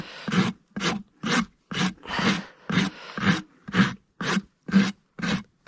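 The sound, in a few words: rasp filing a horse's hoof during a barefoot trim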